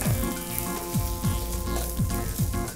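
Pre-fried chicken sizzles in a pan for chilli chicken, a loud continuous crackling hiss with regular stirring scrapes recurring every half second or so.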